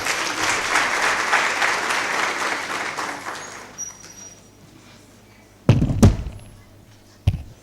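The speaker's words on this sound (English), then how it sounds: "Can you please give her a round of applause?" Applause at a youth entrepreneurship symposium, a full round of clapping for about four seconds that fades out, followed by a few loud thumps and bumps near the microphone.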